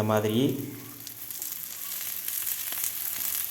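Dough frying in hot oil in a pan gives a steady close sizzle throughout, with a short tonal squeal near the start before the hiss settles.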